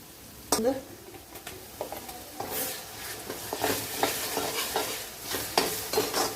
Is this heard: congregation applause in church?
no